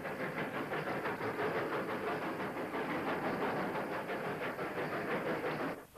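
A grimy 8F steam locomotive hauls 16-ton steel-bodied mineral wagons past Newton Heath shed, a steady rhythmic chuffing and rumbling hiss, loud and continuous without voices.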